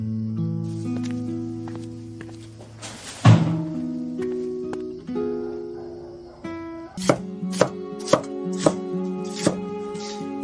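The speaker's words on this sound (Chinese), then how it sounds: "切葱花。" A kitchen knife chops scallions on a board at a street-food stall, a single heavy thunk followed by a quick run of crisp, evenly spaced cuts, close and clear over a low background tone.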